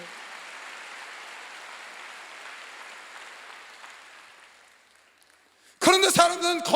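A church congregation applauds during a Wednesday worship service, a broad, even patter that slowly fades to near silence. Loud speech then cuts in.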